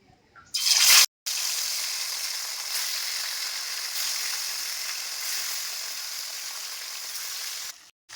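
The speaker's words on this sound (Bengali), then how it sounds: "তেলের মধ্যে কিন্তু মাছের পিসগুলো ছেড়ে দেব" Rohu fish pieces hit hot oil in a wok, launching a loud, steady sizzle that holds evenly for several seconds before cutting off.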